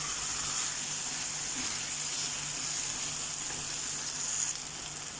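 Minced meat keema with fresh coriander sizzles steadily in a hot pan, a close, continuous frying hiss with faint stirring scrapes and no voices.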